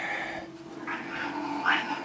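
A young cat meows softly a few times at close range in a tiny house under construction, short faint calls with quiet background noise and no talking.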